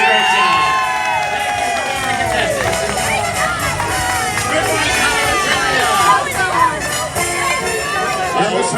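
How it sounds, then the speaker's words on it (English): A lively audience cheers, whoops and shouts with excited voices overlapping, a loud, dense crowd noise that swells and dips across the stretch without dying away. "Give them all a round of applause."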